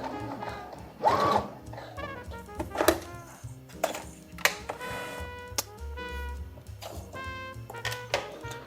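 A sewing machine stitches the centre back seam of a pair of suit trousers, running in short close whirring bursts with pauses, clicks and handling noises between them.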